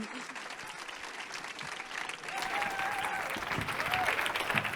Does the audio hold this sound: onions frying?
no